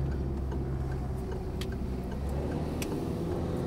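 A car's indicator ticks in a steady, even rhythm inside the cabin during a French driving lesson, the clicks sitting over a constant low engine and road hum with no talking.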